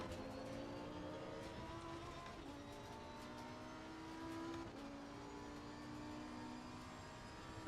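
A race car engine in a racing video game, its tone climbing steadily and dropping at gear shifts, repeating through several upshifts; fairly faint and heard alone.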